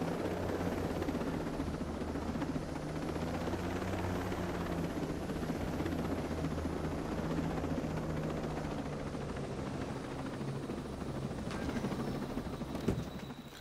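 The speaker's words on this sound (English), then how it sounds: "So we have a heli" Helicopter in the video game Ghost Recon Breakpoint, a faint, steady rotor thrum with low engine hum held evenly throughout, ending with a couple of brief sharp clicks near the close.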